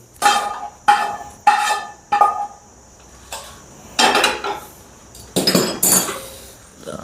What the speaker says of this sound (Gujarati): તો આપણે એક બાઉલમાં એને કાઢી લઈશું